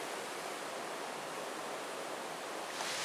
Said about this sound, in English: Wow, look at those waves coming in.